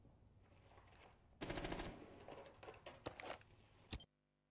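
Video game gunfire crackles in dense automatic bursts, a sustained volley followed by scattered shorter rattles, fairly faint and ending abruptly.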